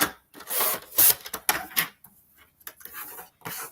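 A paper trimmer cuts a quarter inch off a card panel in short, scratchy slicing and rubbing strokes, close and fairly quiet, with brief pauses between passes.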